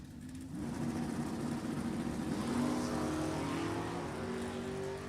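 A 1969 Dodge Dart and a Camaro launching side by side at a drag strip, engines swelling from a brief lull into a loud sustained roar with rising pitch as the cars pull away, heard from a distance across the track.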